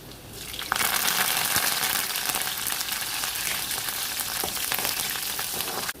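Sliced garlic and curry leaves hit hot oil, bursting into a loud, continuous sizzle that holds steady and close throughout, with a few faint clicks of a utensil; no voices.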